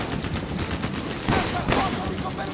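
Rapid video-game gunfire in Medal of Honor: Airborne, a dense stream of shots with two louder bursts near the middle, fairly close and steady throughout.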